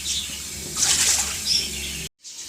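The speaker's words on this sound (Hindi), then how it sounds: "1 किलो चावल है तो 7 गिलास पानी डाल देंगे" Water poured from a glass into a cooking pot for chicken mandi rice, a bright splashing gush that swells and then cuts off abruptly, followed by a short faint trickle.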